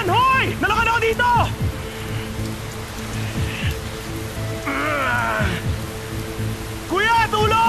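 A sudden rain shower hisses steadily across the scene while people shout and call out loudly over it.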